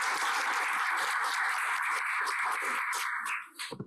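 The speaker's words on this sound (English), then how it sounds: "Can you please give her a round of applause?" Audience applause for a panelist at a South African post-election leadership event: a steady wash of many hands clapping, moderately distant, that thins out and fades near the end, leaving a few scattered bumps.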